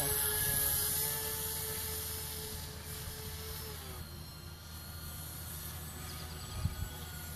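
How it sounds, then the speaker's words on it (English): An aircraft passes overhead with a steady droning hum that slowly fades and shifts in pitch, fairly loud at first and then more distant, with a brief knock near the end. "Doesn't look like a bomber with the way that it flies."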